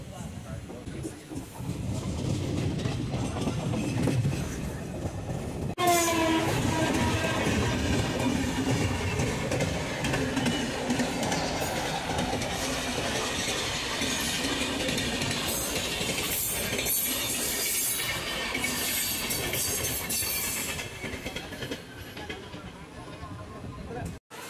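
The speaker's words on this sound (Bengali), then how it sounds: "আমাদের ট্রেন চলে এলো তার পরবর্তী স্টপেজ" The Kanchanjunga Express, a sleeper-class train from New Jalpaiguri to Sealdah, rumbles along in a continuous loud roar with rhythmic wheel clatter and occasional squeals, with voices over it throughout.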